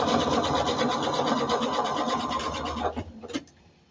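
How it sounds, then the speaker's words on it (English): A sewing machine runs steadily, stitching a 3/4 circle skirt with a button front without pins, then stops near the end, leaving a few brief clicks. "So I'm just kind of sewing without pins."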